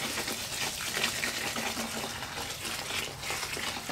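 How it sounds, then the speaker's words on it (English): Organic whole grains soaking in water are stirred for sprouting as chicken feed, a continuous close sloshing and swirling of water and grain with no clear pauses. "I need to stir them anyway, just to make sure the bottom is."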